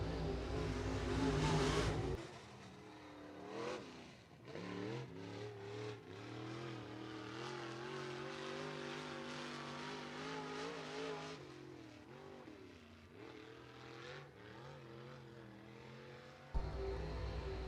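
A USAC National sprint car engine roaring through a qualifying lap at Butler Speedway, loud and sustained with rising and falling pitch as it brakes and accelerates through the turns, then fading, with an announcer faintly under it.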